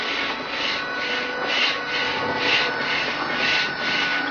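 Stone monument blocks are being sawn apart, giving a loud, continuous rasping grind that swells in regular pulses about once per second, with no voices.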